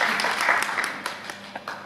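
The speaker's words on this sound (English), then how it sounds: "A round of applause for her, please" Audience at a travel company evening event applauding, a burst of clapping that thins into a few scattered claps, with light voices underneath.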